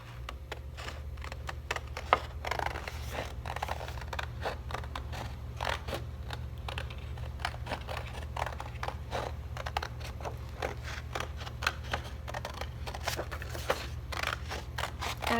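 Scissors snip through paper while cutting out a wavy shape that tapers to a point, a steady run of crisp, rapid close-up cuts with faint crinkling over a low background hum.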